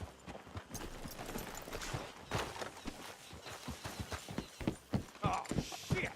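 Horses' hooves clop on the ground in Red Dead Redemption 2, an irregular run of close, distinct hoof strikes from more than one horse at walking pace, fairly quiet, with faint background sounds and no clear speech.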